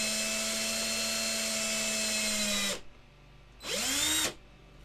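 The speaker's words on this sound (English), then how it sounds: "you're gonna put the drill where the hole is" A power drill whines steadily at high speed drilling into a 1/6 scale resin model kit, cuts out, then spins up again briefly before stopping.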